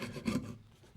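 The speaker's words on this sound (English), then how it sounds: "because I've got a nice sharp chisel here, let's just finish that off by hand." A sharp hand chisel pares wood on a dining table leg, giving a brief, soft scraping rasp that swells and fades within about a second, close by and quiet.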